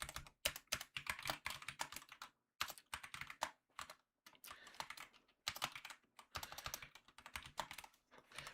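Fast typing on a computer keyboard, close rapid key clatter in bursts separated by brief pauses, fairly quiet overall with no speech.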